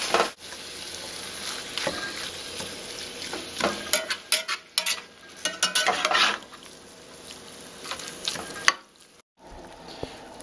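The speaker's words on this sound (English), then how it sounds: "Let's start mixing in the vegetables with the beef." Beef and vegetables stirred in a hot pan while cooking a baby food recipe: steady frying sizzle with repeated scraping and clattering of a utensil against the pan, busy in the middle and briefly dropping away near the end.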